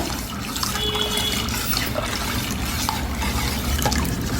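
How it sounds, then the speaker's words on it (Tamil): Caustic soda solution trickles slowly into oil for homemade aloe vera soap, giving a steady, close watery pour and swirl with faint drips throughout, no voices. "கொஞ்சம் கொஞ்சமாக ஊற்றி கலக்குங்க நல்லா ஆற வச்சிடணும் பிளாஸ்டிக் சோடாவை"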